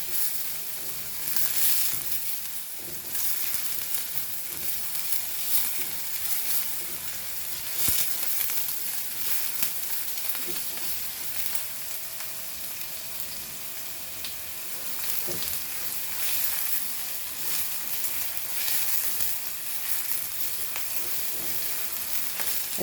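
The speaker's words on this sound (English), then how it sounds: "बरो भाजून घे. सासवां आनी जिरें, कांदो, मिरसांग" Mustard seeds, cumin, onion, chili and garlic fry in a pan with a loud, steady sizzle and crackle, close up, with occasional stirring scrapes and pops and no talk.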